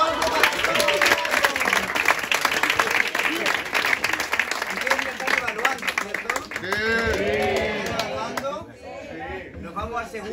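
An audience at a live improv show applauds with loud, dense clapping and cheering that tapers off toward the end, with voices talking over it.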